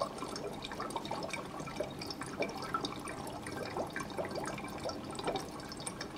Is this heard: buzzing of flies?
no